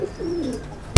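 A racing pigeon in a loft, a hen blind in one eye, gives a low rolling coo that swells and fades over most of a second, followed by a sharp knock or tap at the end.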